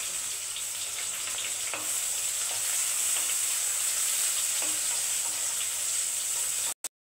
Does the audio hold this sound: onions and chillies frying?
yes